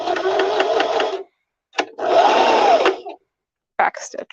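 A sewing machine runs in short bursts while back-stitching through lace and cotton to make a craft headbow, each stretch of whirring stitches lasting a second or so, separated by pauses.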